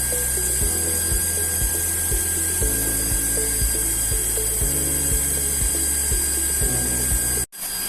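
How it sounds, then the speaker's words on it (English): Electroweld SP 40P pneumatically operated rocker arm spot welder joining components, with a steady machine hum and a series of regular clunking weld cycles, ending in a brief sharp break near the end; no speech. "This is how it is welded."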